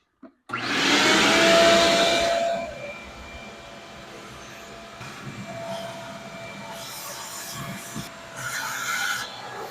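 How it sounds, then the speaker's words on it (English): A shop vac hose draws debris out of the HVAC box of a Ford F150, a loud rasping suction roar for the first two seconds that drops to a steadier, quieter whoosh with faint rattling bits passing through. "I'm just going to hook up a shop vac here, see if I can get some of that nest"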